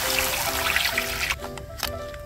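Water poured into a pan of fried tomato sauce for jjamppong pasta, with a continuous trickling flow over a faint sizzle that breaks into a few splashy spurts toward the end.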